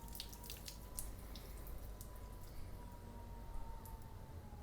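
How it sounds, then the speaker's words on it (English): A generous stream of water poured over a car panel treated with Feynlab ceramic coating, heard as a steady, quiet watery trickle and dripping throughout, close by, with no talking. "Pour lots of water on it this time."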